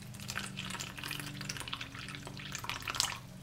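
Water poured into a reptile's water dish in a terrarium corner, a soft trickling and splashing liquid sound, faint and close, with no speech.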